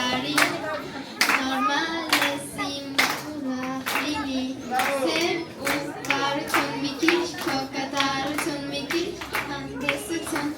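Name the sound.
audience applause at a New Year celebration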